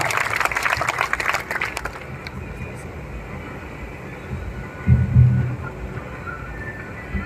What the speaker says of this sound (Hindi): जोरदार तालियों के साथ में आमंत्रण देते हैं श्रीमान पुष्पेंद्र जी कुलश्रेष्ठ को